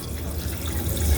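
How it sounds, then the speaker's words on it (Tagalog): Water pours into a cooking pot for a family meal, a steady splashing, gurgling stream running close and continuous with no talk over it. "So, lagyan na ng tubig."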